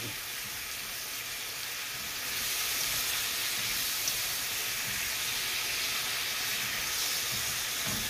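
Apple juice poured into a hot pan of fried apples cooking in butter and sugar, a broad steady sizzling hiss that swells louder about two seconds in and holds, close and unaccompanied.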